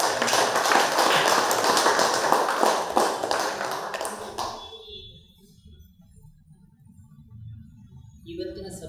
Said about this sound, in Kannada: ನಮ್ಮೆಲ್ಲರ ಗುರುಗಳಾದಂಥ ಬ್ರಹ್ಮಶ್ರೀ ಪಿತಾಮಹ ಸುಭಾಷ್ ಮಂತ್ರಿಯವರಿಗೆ ನಾವೆಲ್ಲರೂ ಒಂದು ಸರಿ ಜೋರಾಗಿ ಚಪ್ಪಾಳೆ